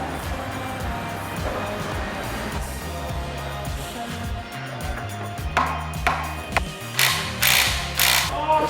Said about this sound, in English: This crank pulley, I've just nipped it gently with the rattle gun.